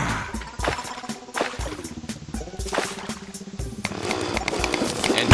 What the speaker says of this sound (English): he also has the combination hammer slash pickaxe slash axe in his inventory, which is making the drilling sound